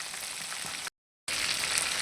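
Chicken wings deep-frying in plenty of hot oil for homemade KFC-style wings give a steady, dense sizzle that drops out briefly in the middle and then resumes just as loud.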